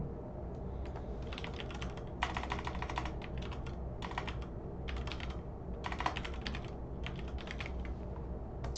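A password being typed on a computer keyboard: quick bursts of close key clatter separated by brief pauses, with no voices.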